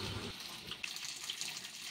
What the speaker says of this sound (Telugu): ఇప్పుడు ఇందులో వాటర్ వేసుకుందాం.